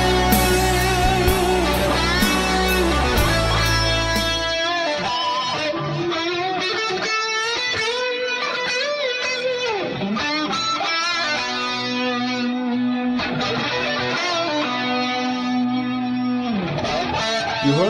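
Heavily effected electric guitar plays through a Big Muff fuzz, Electric Mistress flanger and delay, no compressor: thick fuzz distortion, a sweeping flanger and trailing delay repeats, loud and alone with no voices.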